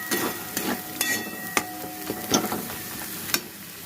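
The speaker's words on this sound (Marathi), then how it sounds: "छान मस्त पैकी परतून घेते तेलामध्ये" Spices with chilli powder, coriander powder and garam masala sautéed in hot oil for a soybean curry, giving a steady soft sizzle with intermittent sharp clicks of a spoon stirring the pan, close and alone without talk.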